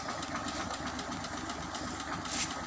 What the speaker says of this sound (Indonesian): nah ini mas posisi mesin masih hidup pas lagi dinyalain nih